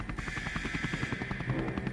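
A helicopter in the Henry Stickmin video game whirs with a steady rapid rotor chop, a dense pulsing rhythm that holds evenly throughout at moderate loudness with no voices.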